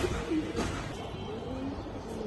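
Afsan bagha silver pigeons cooing softly and steadily, a low repeated murmur close by with faint background noise and no talking.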